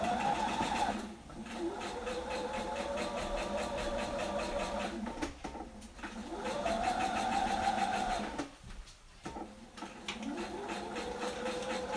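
Sewing machine stitching around the edge of a felt cookie piece, running in steady motor bursts with a few short pauses between passes, close and fairly loud, no talking.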